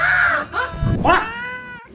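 A cat meows several times in quick succession, close and fairly loud, with drawn-out, wavering cries and no talking.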